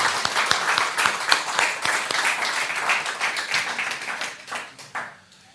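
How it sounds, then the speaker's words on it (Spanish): A congregation at a Sunday church service breaks into steady, dense applause that fades out at the end, with no speech over it. "Dele un aplauso al Señor. Dele un aplauso."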